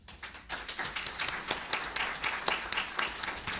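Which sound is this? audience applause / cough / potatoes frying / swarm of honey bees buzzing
audience applause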